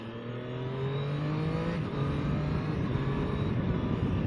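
A 2024 Triumph Daytona 660 motorcycle engine drones loudly and steadily as it shifts up through the gears with a quick shifter. A brief dip in pitch marks a gear change near the middle.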